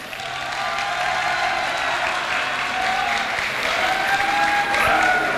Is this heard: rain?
no